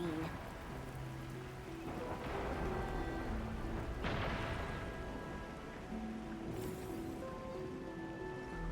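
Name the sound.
heavy rain in video game Arknights: Endfield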